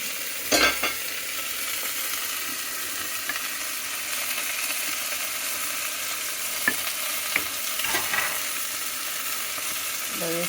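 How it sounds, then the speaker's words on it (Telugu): Chili powder and spices sizzling in hot oil in a pan while making paya curry, a steady bright crackle throughout, with a few sharp stirring clinks and scrapes near the start and later on. "కారము నూనెలో తొందరగా కాలిపోతుందండి."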